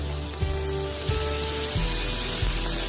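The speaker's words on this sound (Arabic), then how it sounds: "نحلو الكبدة تاعنا هكذايا ونخلوها تقلى لنا مليح" Beef liver frying in a pan, a steady broad hiss of sizzling oil with faint crackles and low periodic knocks beneath, moderately quiet and continuous with no speech.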